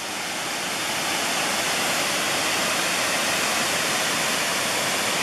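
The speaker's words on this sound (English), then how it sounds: "It's a pretty impressive waterfall," A large, impressive mountain waterfall in the Cherokee and Nantahala National Forests roaring loudly, a dense, unbroken rush of falling water that fills the whole sound, with no voices.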